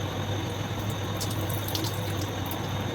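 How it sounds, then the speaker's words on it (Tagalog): Water is drained from a pot of soaked lotus seeds and white nuts in a home kitchen, a steady rushing hiss of running water that stays even and fairly faint throughout, with no voices. "Drain lang natin yung tubig."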